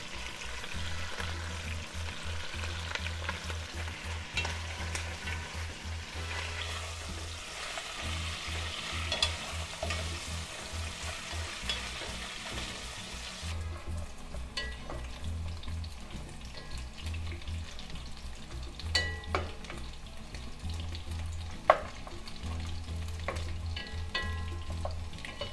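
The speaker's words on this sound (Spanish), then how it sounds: "agregar más aceite para que se doren las costillitas" Pork ribs fry in a pan of oil with oregano and ground clove, giving a steady quiet sizzle broken by occasional stirring scrapes, with no voices.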